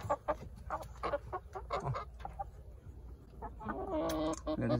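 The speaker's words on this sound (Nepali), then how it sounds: "खुइले कुखुरा हो" Several Khuile chickens cluck in short, irregular bursts close by, with a busier flurry of hen calls toward the end over a low background hum.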